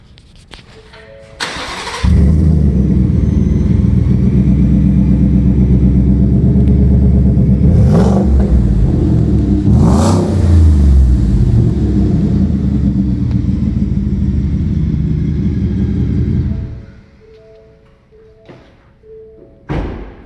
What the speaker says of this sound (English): let's go ahead and fire it up. You can hear that MBPR exhaust.